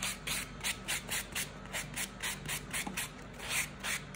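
A fingernail is filed and buffed during a silk wrap manicure, giving a steady series of soft, rhythmic scratchy strokes close by, about three per second, with no talking.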